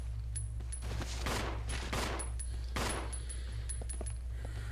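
Gunfire aimed at zombies in Resident Evil Zero, with several sharp shots spread across a steady low game hum, some close and loud, others lighter, amid faint clinking effects.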